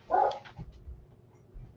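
A dog barks once or twice close by in a quiet room, a short loud burst, then only faint room noise.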